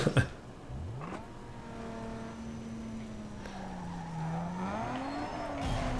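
Infiniti in Need for Speed Underground 2 drifting and skidding, a sustained rising and falling tire squeal over a steady engine drone, with a sharp thump near the start and the engine revving up toward the end.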